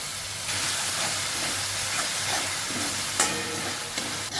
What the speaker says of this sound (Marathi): आपलं वाटण परतून झाले. हे मी सगळं फास्ट गॅसवर परतले.